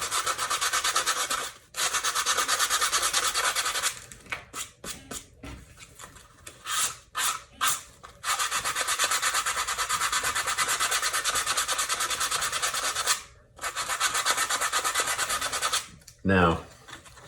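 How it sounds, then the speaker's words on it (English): Hand sanding a foam core shoe sole produces long, steady abrasive rubbing strokes, interrupted by short pauses and a burst of quick back-and-forth scrubs, close and fairly loud with no speech. "I'm not going to sit here and sand this for you, but I'll just do a little spot."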